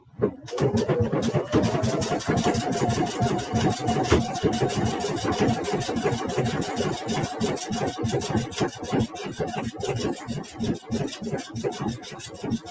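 Sewing machine stitching decorative cording onto fabric, a continuous fast needle chatter that runs steadily throughout, close and fairly loud.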